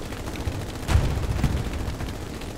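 Gunfire in the World War II shooter Hell Let Loose, a dense continuous rattle of shots with a heavier burst near one second, steady and fairly loud throughout.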